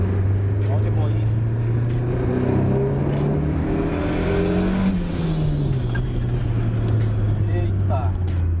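A modified turbo pickup truck converted to run on ethanol roars as it accelerates, its steady engine drone rising and falling in pitch close to the microphone, with people talking over it.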